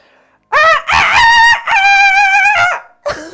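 A person's voice imitates a rooster's cock-a-doodle-doo, one loud, close crow in two long drawn-out rising and held phrases, followed by a short extra burst, alone in a quiet room.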